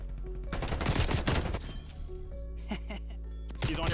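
Rapid gunfire in Call of Duty Cold War, loud bursts of automatic shots with sharp cracks, pausing briefly then resuming, with a voice talking over it.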